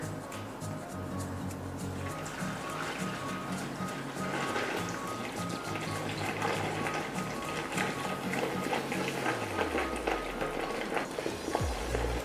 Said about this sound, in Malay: Masukkan air soda 2 ke 3 botol.